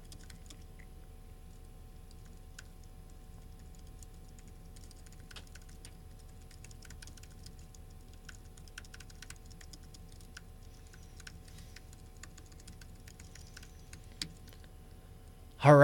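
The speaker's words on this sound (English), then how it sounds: "Let me just type something to my team here." Light tapping on a computer keyboard in scattered bursts, soft and close over a faint steady hum, with quiet pauses between keystroke runs.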